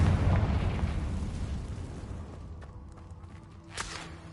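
A loud Confringo fire spell in Hogwarts Legacy bursts into a dense, roaring blast that slowly fades over several seconds, with a sharp crackling pop near the end.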